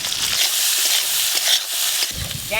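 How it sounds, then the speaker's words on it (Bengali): Crabs fried in hot oil in a home kitchen, a continuous close hiss of sizzling fat with small crackles and a brief splashing burst at the start and end, heard alone. "তেল গরম হয়ে গেছে, কাঁকড়াগুলো ভেজে নেব।"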